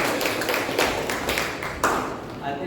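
Audience applause at a Toastmasters club meeting: a small room of people clapping together in a dense, steady patter for a few seconds, with a few louder individual claps.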